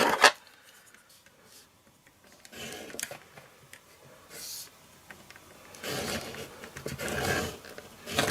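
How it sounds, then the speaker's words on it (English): Scoring a line on cardstock for a pop-up slider card gives a soft rubbing scrape that comes in several light strokes, close and quiet, with faint handling noises between them. "I need to create another score line in the middle here"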